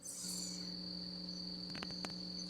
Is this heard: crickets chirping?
yes